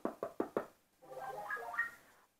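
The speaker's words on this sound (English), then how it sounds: "I wonder if I could make him run to the door if I knock on the..." Four quick, sharp knocks on a door-like surface in even rhythm, close by, followed by a brief muffled tonal sound.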